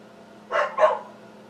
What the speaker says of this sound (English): And that will be Sadie barking because she wants to come in